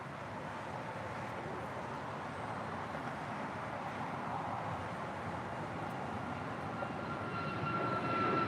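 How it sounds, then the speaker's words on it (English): An Air Canada Boeing 737 MAX 8 departs LAX bound for Montreal, a steady broadband jet roar that holds constant and swells slightly near the end, heard from a distance with no voices. "Our next departure is Air Canada 776. We'll be departing to Montreal on a MAX 8."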